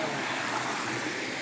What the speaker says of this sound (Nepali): पकनीको शिरबाट झरिरहेको पानी हो यो।